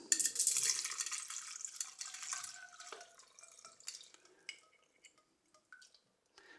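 Homemade anise liqueur is poured through a strainer in a kitchen, starting as a splashing stream that thins into scattered, irregular drips, close and quiet with no talk.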